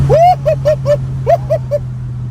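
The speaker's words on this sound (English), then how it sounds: "Oh, you can hear the turbos on that one." A car engine fitted with upgraded turbos gives a steady low hum, overlaid by a loud series of seven short, rising-and-falling whistling chirps in two quick groups, close to the listener.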